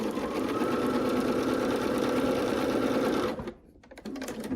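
A sewing machine stitches quilt fabric in one steady, fast whirring run, close and loud, then stops abruptly before a brief softer restart.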